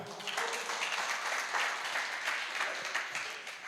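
A church congregation at a Sunday worship service claps for God, a steady, fairly soft wash of many hands clapping together without voices, lasting a few seconds.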